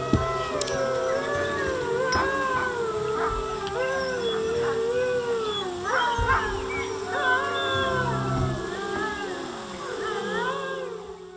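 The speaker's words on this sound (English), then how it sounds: "Hearing the wolves howl at night is neat" Wolves at a wolf sanctuary in Texas howl together in a loud chorus, overlapping long rising and falling calls that carry on steadily for several seconds, some voices higher and wavering above others.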